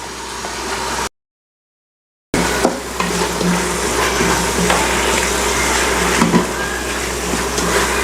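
Mint leaves added to onion, ginger and garlic frying in a Robocook electric pressure cooker give a steady, close sizzle with faint stirring scrapes, cut by a brief dropout.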